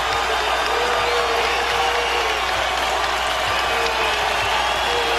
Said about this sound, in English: Crowd becoming a factor here at the Rock in New Jersey.